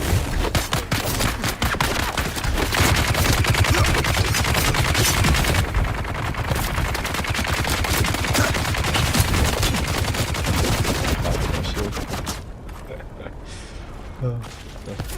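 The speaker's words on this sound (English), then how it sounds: "everyone's firing at me" Sustained heavy gunfire in the survival game Dune: Awakening, dense rapid bursts from several weapons crackling continuously and loudly, then easing off near the end, with voices talking underneath.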